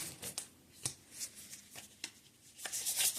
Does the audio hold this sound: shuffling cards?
yes